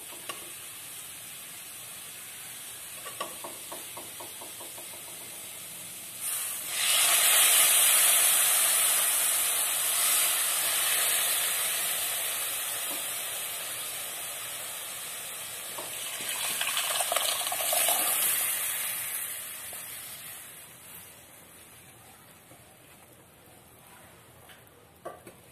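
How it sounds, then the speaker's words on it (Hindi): Amritsari chhole chickpeas cooking in hot oil in a pan, sizzling and bubbling steadily, with two louder surges of frying hiss as they are stirred, close and clear with no talk. "अब हम बाकी के जो चने हैं इसमें डालकर थोड़ी देर के लिए 5 से 10 मिनट तक इसको पकाएंगे।"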